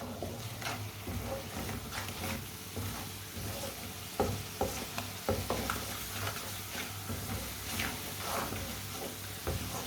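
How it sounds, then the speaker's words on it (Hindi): Spices cooking in a pan over low heat, stirred with a spoon: a soft, steady sizzle runs throughout, broken by light scraping and tapping strokes at an irregular, unhurried pace, fairly close and moderate in level with no talk. "मसालों को चम्मच चलाते हुए पकाना है, मसालों को जलने बिल्कुल भी नहीं देना।"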